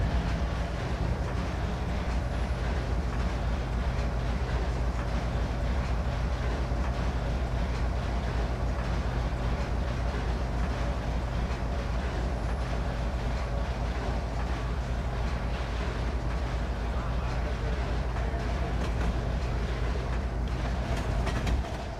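Train of empty grain hoppers rolling steadily in the Trainz railway game, a continuous loud rumble of wheels and cars with faint clickety-clack, running alone without pauses.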